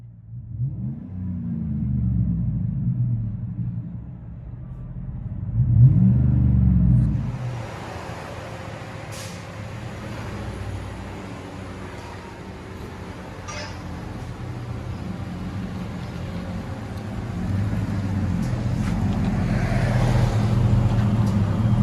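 Deep, steady exhaust rumble of a Chevy Silverado LT pickup with a 5.3L V8 and Flowmaster exhaust, heard from inside the cab, swelling once as the engine revs, then settling into a continuous low drone.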